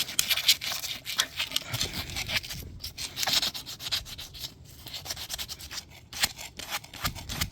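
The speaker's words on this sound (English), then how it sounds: "So use copper tube from something else. Just sand it good." Abrasive sanding of a copper tube by hand, cleaning it to fit a filter dryer during a refrigerator compressor replacement: steady, close scratchy rubbing strokes in a continuous rhythm, with brief pauses between passes and no talking.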